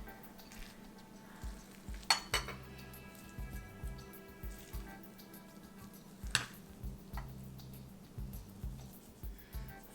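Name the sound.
upma being served into a bowl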